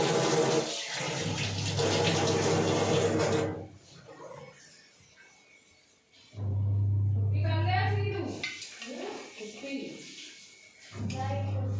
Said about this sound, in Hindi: एक छोटे से गिलास में ले लेते हैं पानी